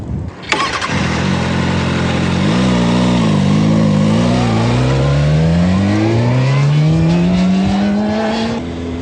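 A motorcycle fitted with a steering pointer on the tank is started and ridden off, its engine barking to life and then rising steadily in pitch as it accelerates, loud and close, with no talking.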